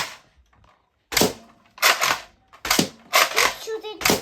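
A toy air rifle fires small bullets in a series of five sharp snapping pops at irregular intervals, close by, with a voice faintly in between.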